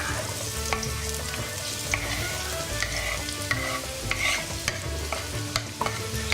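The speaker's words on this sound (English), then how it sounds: "So we're going to cook these onions until they start to go quite limp" Onions frying in a pan while being stirred, a dense continuous sizzle close up with repeated clicks and scrapes of the utensil against the pan, no talking.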